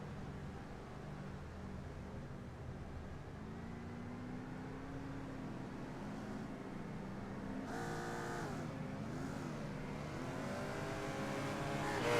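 Race cars lap Watkins Glen in a racing video game, their engines droning faintly at first, then a nearer car revs and shifts through rising and falling whines before the sound swells at the end.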